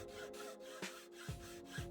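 A hacksaw cuts through wooden shelf pieces with three or four short rasping strokes, close and fairly quiet, with no talking.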